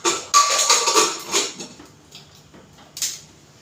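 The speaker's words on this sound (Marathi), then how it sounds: "मी त्याला झाकण लावून" A pressure cooker lid is fitted onto a cooker of chole soaking in water. Close, loud metallic clattering and knocks come in a busy burst, then fade to quieter clicks and one final clank.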